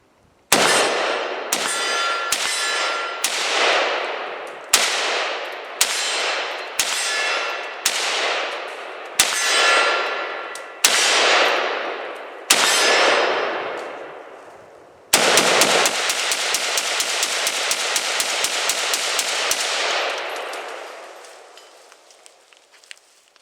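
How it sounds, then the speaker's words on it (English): An AK rifle fires about nine evenly spaced single shots, each loud and close with a ringing decay, then a sustained rapid burst of roughly five seconds that trails off into echo. "Those are really the two ways to shoot the AK, from what I've seen."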